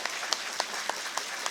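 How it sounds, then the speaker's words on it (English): Football supporters in the Guernsey stand applaud at the final whistle of a Guernsey FC match, a steady wash of clapping from a distant crowd with a few sharper individual claps standing out at regular intervals. "lots of enthusiastic supporters here in the Guernsey stand applauding warmly the entertainment we've seen here this afternoon"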